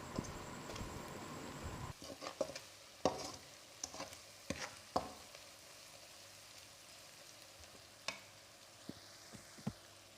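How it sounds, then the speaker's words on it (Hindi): Ingredients for a beef brain dish fry briefly in a pan, giving a quiet, close sizzle with scattered sharp knocks and scrapes of a utensil against the pan, and no voices. "सब चीज़ों को चंद सेकंड के लिए फ्राई करेंगे।"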